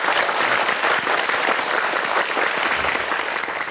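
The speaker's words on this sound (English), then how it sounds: "Please give him a round of applause." A studio audience applauds at the close of an English-language television interview show, sustained, even clapping from many people at moderate volume, with no voices over it.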